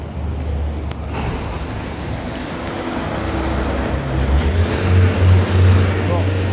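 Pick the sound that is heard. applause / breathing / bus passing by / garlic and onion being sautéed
bus passing by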